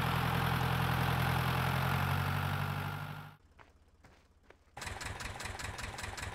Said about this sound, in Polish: Apek najsilniejszy ciągnik.